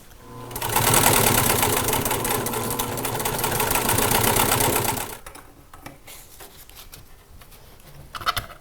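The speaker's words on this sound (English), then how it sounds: "We'll sew another clip on." A sewing machine stitches truck seat upholstery in one loud, steady run of about four and a half seconds, then stops, leaving quieter handling noises and a few light clicks.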